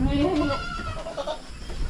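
A pet goat recovering from mouth sores gives a single wavering bleat up close, followed by quieter farmyard noise.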